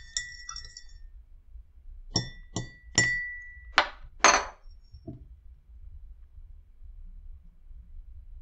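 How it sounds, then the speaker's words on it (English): A spoon clinks against a glass of coffee in a few sharp, bright taps and rings, separated by short pauses, close and clear in an otherwise quiet room. "Give it a stir."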